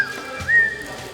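A person whistles a short rising-then-steady note, imitating a whistle heard in the dark of night, brief and close.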